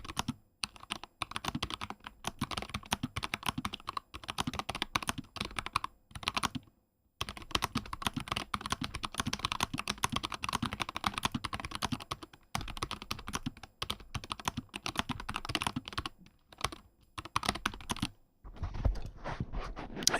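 Close, continuous typing on Knob one and Nomad mechanical keyboards, brisk clattering keystrokes in quick bursts with a few short pauses, and no voices.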